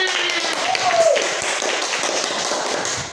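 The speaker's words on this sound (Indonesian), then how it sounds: "Sudah selesai? Tepuk tangan." Schoolchildren in a classroom clap together, a lively patter of many hands with a brief voice rising in the middle.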